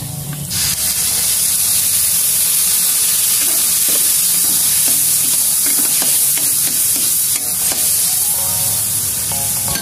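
Loud, steady sizzle and hiss as soy sauce hits stir-fried pancit bato noodles with sautéed garlic and onion in a hot pan, with light stirring scrapes throughout and no talking.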